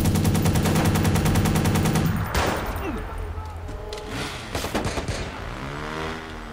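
Rapid automatic gunfire from an enemy in the video game Watch Dogs rattles loud and close for about two seconds, then breaks into scattered shots and impacts amid in-game chaos.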